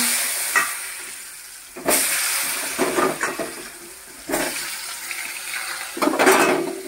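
Potato pieces fry in white oil in a kadai over low flame, a soft steady sizzle that swells in bursts as pieces are added or stirred, heard up close without speech.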